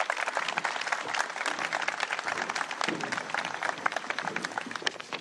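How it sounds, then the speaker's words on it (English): An audience at a signing ceremony for a state forensic hospital breaks into a warm round of applause, steady dense clapping filling the room for several seconds with no speech over it. "Please give her a warm round of applause."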